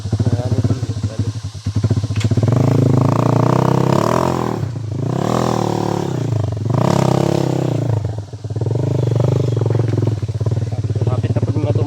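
A motorcycle engine labours and revs while being ridden over a rough road, its loud rising and falling drone surging several times, heard close with rattling clatter and brief talk underneath.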